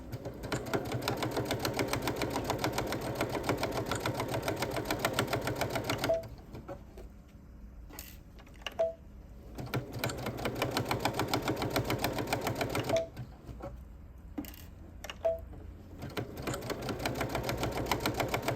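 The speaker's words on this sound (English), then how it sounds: "I sew right down the center of this" A sewing machine stitches straight down the center of a small quilted mug rug, running in long steady bursts with a couple of brief pauses and clicks between them, close and alone with no talk.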